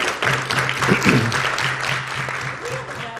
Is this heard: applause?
yes